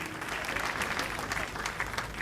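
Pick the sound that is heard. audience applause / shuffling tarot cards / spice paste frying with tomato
audience applause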